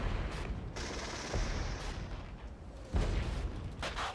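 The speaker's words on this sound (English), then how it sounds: "We're already taking artillery from the enemy." Artillery and gunfire rumble through a Regiments real-time tactics battle, low thuds and booms landing at a middle distance, with a sharper impact near the end over continuous battlefield noise.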